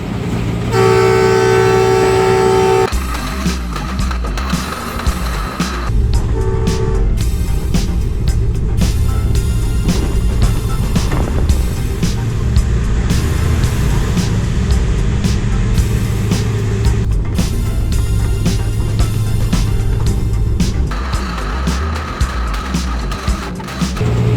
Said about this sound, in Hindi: घाट सेक्शन से गुजर रही है ग्रीन लाइन एक्सप्रेस